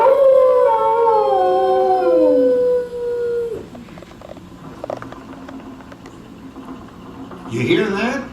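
Rover the dog howls in long, wavering, descending tones lasting a few seconds, loud and close, followed by quieter background noise and a brief yelp-like sound near the end.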